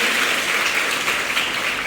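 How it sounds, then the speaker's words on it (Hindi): An audience at a school event in Jhalawar applauds vigorously: a steady wash of many hands clapping together, loud and continuous throughout. "अब मैं आप सभी के स्वयं के प्रयासों के लिए जोरदार तालियों से अपना आत्मविश्वास बढ़ाना चाहूंगा।"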